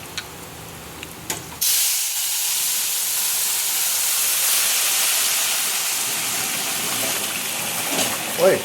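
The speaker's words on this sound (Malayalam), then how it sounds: "വെള്ളം ഒഴിക്കാം." Water is poured into a hot cooking pot while making kuzhi mandi, with one teaspoon of salt added. It sets off a sudden loud, sustained steam hiss that starts abruptly and continues steadily, with a faint voice at the very end.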